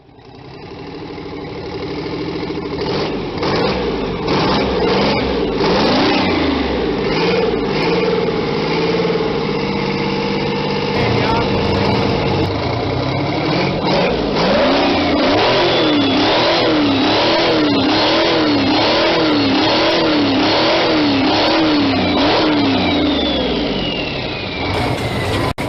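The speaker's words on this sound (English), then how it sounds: "This is a V12 Detriot Diesel engine that puts out 525 horsepower." A two-stroke V12 Detroit Diesel engine rated at 525 horsepower cranks and starts, then idles and revs repeatedly, its rough, loud mechanical clatter rising and falling in waves.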